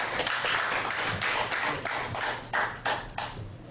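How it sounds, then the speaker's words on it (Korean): An audience at a Korean political forum claps in steady, evenly spaced bursts, crisp and fairly close, filling the room without any talk over it. "우리 박수로."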